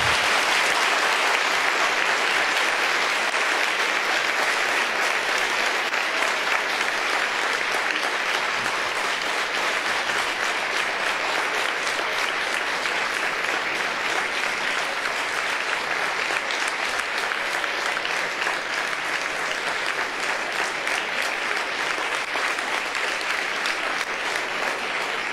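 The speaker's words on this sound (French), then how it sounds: "Je vous demande d'applaudir Jamie" A large audience applauds Jamy Gourmaud at the end of a public talk, a dense, loud and unbroken wash of clapping that holds steady for about twenty-five seconds with no voices over it.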